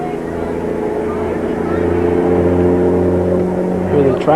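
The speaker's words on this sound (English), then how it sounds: "Here the tractor trailers going by." Heavy tractor trailers roll past on a road beside a junior varsity boys' soccer game, a steady loud engine and tire rumble that swells toward the end, with voices talking over it.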